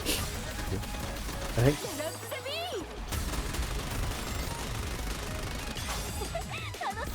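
Steady gunfire fills a battle in the Goddess of Victory video game, with rapid shots and bursts firing at the middle alongside whooshing effects and sweeping tones. Someone talks over the shooting.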